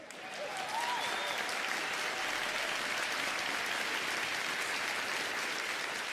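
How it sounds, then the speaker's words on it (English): Recorded applause swells in and holds steady, a dense crowd clapping continuously with no talking over it. "Let me, where's my applause? Here we go."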